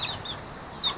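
Chickens clucking at a rural spot where cassava is being peeled under banana trees, with soft, faint clucks scattered across a brief moment over steady outdoor background noise.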